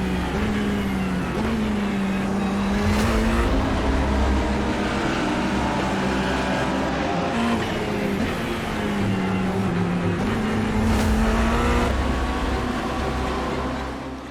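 Race cars leave the start at Zolder in a sim racing game, with a loud, continuous engine roar. The pitch rises and falls as gears shift, and no voices are heard.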